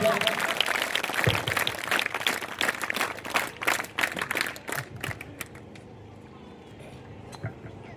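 Audience applauding as a headmaster is welcomed onto the stage at a school annual day celebration, brisk clapping that thins out and fades to a few scattered claps over a quiet hall.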